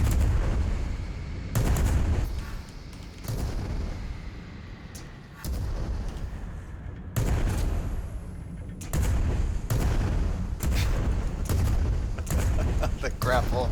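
Repeated heavy cannon blasts from airship combat in the game Worlds Adrift, loud booming shots at irregular intervals under a continuous rumble.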